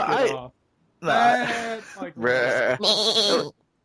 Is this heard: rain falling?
no